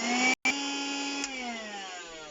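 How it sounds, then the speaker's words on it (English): Vacuum cleaner sucking up loose model railway ballast, a loud steady motor whine with a momentary dropout early on, then the pitch slowly sagging while the suction keeps running alone. "So I'm going to have to vacuum all this up now"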